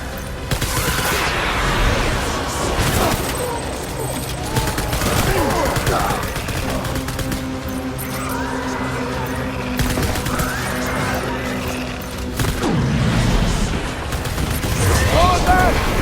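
Rapid gunfire bursts and volleys rattle through a Death Stranding battle scene, dense and loud throughout with heavy booms and machine-gun fire, and voices calling out over the fighting.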